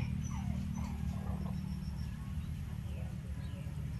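A dog whimpers and yips faintly at a distance over a constant low rumble of background noise, with a few brief high whines.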